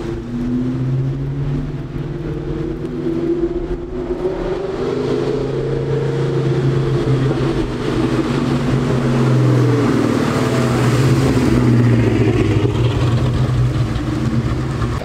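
A car fitted with Borla ATAK exhaust rumbles loudly and steadily, with a deep low drone that swells into a stronger rev toward the end; no one speaks over it.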